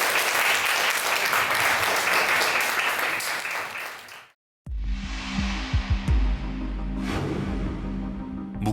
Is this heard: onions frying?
no